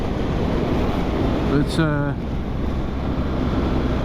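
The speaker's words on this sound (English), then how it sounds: "because it's very windy." Strong wind buffets a motorcyclist wearing a peaked helmet on a ride, a loud, constant roaring rush over the microphone, with a brief spoken word partway through.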